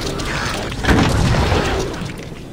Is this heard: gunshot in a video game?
yes